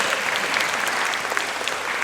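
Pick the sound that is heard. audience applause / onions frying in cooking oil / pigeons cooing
audience applause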